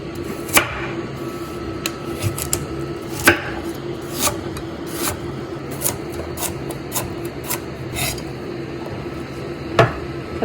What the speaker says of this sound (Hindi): मेरे पास 1 गाजर है और उसके भी इसी तरह छोटे टुकड़े कर लेंगे।